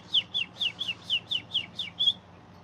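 A person whistles an imitation of a bird call: nine bright, evenly spaced chirping notes in a quick steady rhythm, close and clear, with no other sound around them.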